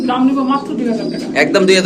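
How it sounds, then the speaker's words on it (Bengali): Pigeons, including black Beauty pigeons, coo softly in the background at a pigeon market while a person talks loudly over them, the voice dominating throughout. "কালো বিউটি কবুতর চমৎকার কোয়ালিটি মাসাল্লাহ"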